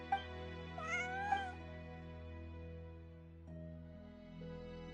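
A cat meows a couple of times in Genshin Impact, in the Fontaine region, over steady, sustained game music.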